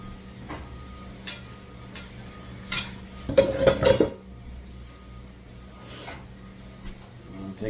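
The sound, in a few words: plating chicken dish, clinking dishes and utensils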